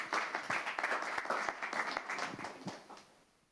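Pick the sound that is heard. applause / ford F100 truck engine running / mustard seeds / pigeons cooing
applause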